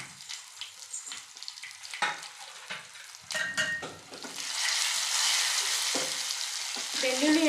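Garlic fries in a hot sambar tempering with asafoetida and curry leaves: sparse spits and stirring clicks grow into a loud, steady, close-up sizzle that fills the last half.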